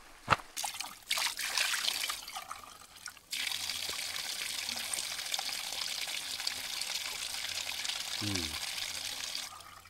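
Cold, clean spring water trickles steadily at an outdoor spring, a continuous soft splashing flow that sets in after a few early knocks and stays fairly close and even to the end.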